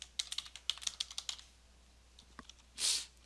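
A username and password typed on a computer keyboard: a quick run of close, crisp key clicks, a brief pause with a few scattered taps, then one heavier, longer keystroke near the end.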